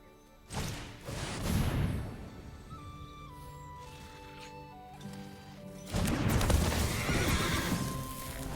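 A horse neigh sound effect from a Lord of the Rings Magic card game, a loud whinny with clip-clop hoofbeats, then a second burst of horse noise near the end, with no talking.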